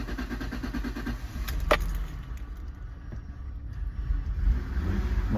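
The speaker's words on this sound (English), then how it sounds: "I'm going to start it up and see if there's any leaks" A Mk3 Ford Mondeo engine cranks and catches after a fuel filter change, starting lazily with a rumbling turnover and then settling into a low running note, heard close.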